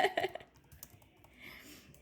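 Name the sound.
typing with one hand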